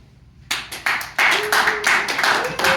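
An improv comedy festival audience claps: a few scattered, sharp claps first, then a fuller round of applause builds and carries on, with a brief voice rising over it.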